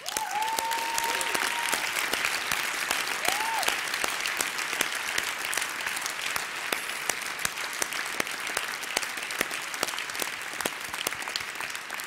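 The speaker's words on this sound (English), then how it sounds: "I'd like everyone to give a round of applause to everyone who put this event on" A conference audience applauds at the wrap-up, sustained dense clapping from a large crowd, steady and loud throughout, with a few brief voices or whoops rising early on.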